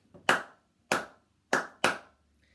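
Four sharp hand claps in a rhythmic pattern, close and crisp, with a short gap after the second and the last two coming closer together.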